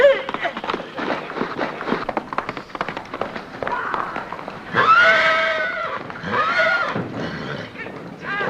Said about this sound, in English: Good horse, Roon.